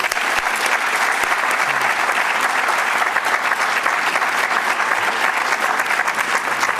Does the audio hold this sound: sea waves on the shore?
no